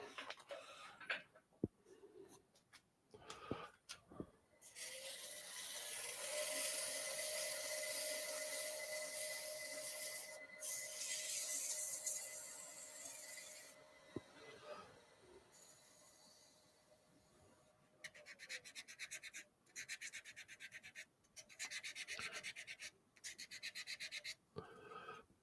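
An oak woodturning piece sanded with 320 grit sandpaper, a steady rasping hiss that runs in long stretches with pauses between them, closing in quicker rhythmic strokes.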